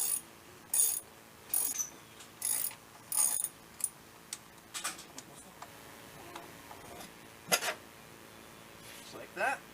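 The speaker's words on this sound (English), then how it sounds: "First thing you're going to need is a 10mm socket. We're going to take the seat off." A 10mm socket ratchet works on a Honda CGL 125 motorcycle seat, giving bursts of clicking and metallic ratcheting at close range, with a voice speaking briefly between the bursts.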